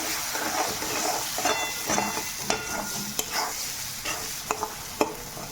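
Street-style egg bhurji mixed in a hot pan, with a steady sizzling hiss under irregular spatula scrapes and a few sharp clinks toward the end, close by and with no voices.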